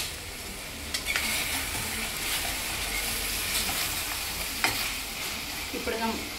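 Chicken curry gravy fries steadily in a pan while a spoon stirs it, giving a continuous close sizzle with occasional scrapes and clinks against the metal.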